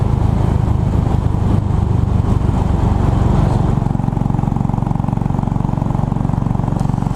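A Royal Enfield Bullet 500 motorcycle cruising at about 55 mph on a mild day, its single-cylinder engine giving a steady, loud, continuous thump close to the microphone.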